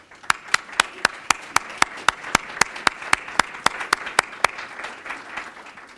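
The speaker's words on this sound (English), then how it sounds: "have our deputy CAOs and department heads stand up so we can give them a round of applause" An audience at a budget meeting gives department heads and deputy administrators a round of applause: regular, evenly spaced claps that sound like a single person clapping steadily, close and distinct, over faint room noise.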